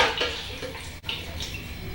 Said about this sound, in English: I'll just add a little bit of water to it.